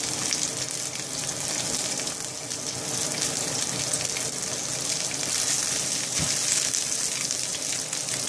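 Halved lamb shanks browning in hot olive oil in a pan, giving a steady, loud sizzle with a constant hiss that runs unbroken throughout, with no voices.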